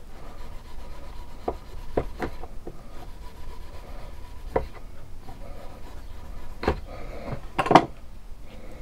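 A sharp knife pares down a piece of leather for a Bowie knife sheath, giving soft scraping and rubbing strokes with a few sharper cutting accents, close up and alone.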